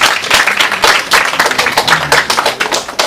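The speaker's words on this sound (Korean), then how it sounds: "박수 한번 보내주세요" An audience at a Korean theatre award and scholarship ceremony applauds loudly and close, a dense, continuous burst of clapping from many hands that stays strong throughout.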